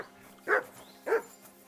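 A dog named Mutt in the video game Kingdom Come: Deliverance 2 gives two short, distinct barks about half a second apart, fairly close, over a quiet low hum.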